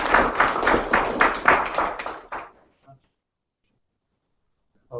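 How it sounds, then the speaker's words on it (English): An audience applauds after a talk at a Python users group meeting, a dense burst of clapping for about two and a half seconds that then stops abruptly, followed by quiet and a faint voice. "big round of applause"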